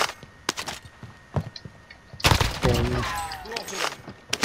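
Video game gunfire: sharp separate shots crack out in the first two seconds, then a louder burst of rapid fire breaks in, with a voice talking over the later shots.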